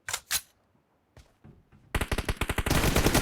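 Rapid automatic gunfire in a PUBG Mobile team deathmatch: two sharp shots open, a pause with a few scattered pops, then a dense, loud burst of fast repeated fire to the end.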